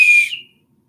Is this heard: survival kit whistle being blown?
yes